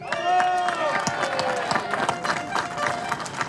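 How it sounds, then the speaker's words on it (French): Crowd at a farmers' protest in Paris with hundreds of tractors applauding Louise, president of the young farmers, with scattered claps and cheering, while a voice speaks over it. "applaudissez Louise."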